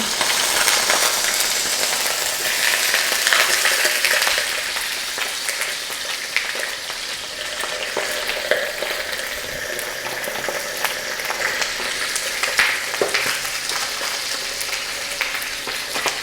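Chicken pieces pan-fry in oil, a loud, steady hiss that bubbles throughout, with occasional small pops and clinks close by and no voices.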